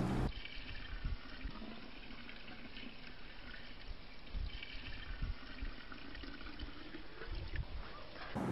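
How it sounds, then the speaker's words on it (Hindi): Five litres of cow urine poured into a vessel holding five kilograms of cow dung, a steady continuous splashing and trickling of liquid that runs close and fairly loud through the whole stretch, with no talk over it. "अब 5 लीटर गौमूत्र भी इसमें मिला दीजिए।"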